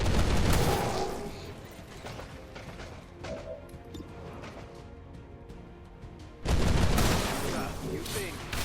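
A loud crash of gunfire from XCOM Long War with the 40k mod opens, gives way to quieter mechanical rattles and clanks, and another heavy burst of shooting follows near the end.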